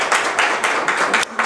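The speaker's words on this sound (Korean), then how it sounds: "박수로 환영해 주시기 바랍니다." An audience claps to welcome a 2013 CFA Level 3 graduate at an information session, a steady wash of dense hand claps heard close and fairly loud throughout the brief burst.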